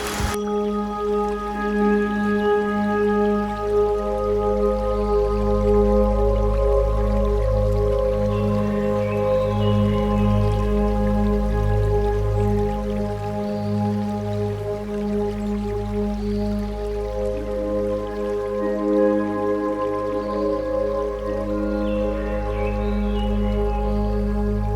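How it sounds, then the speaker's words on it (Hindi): Heavy rain pours steadily at a monastery in Nepal, a continuous dense wash of falling water with drips layered in, loud and unbroken for the whole stretch, with no voices. "बारिश बहुत तेज होने लगी"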